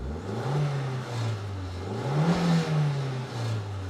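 An Audi TT with a 1.8-litre BAM turbo four-cylinder engine revs up and settles several times in close, steady rises and falls.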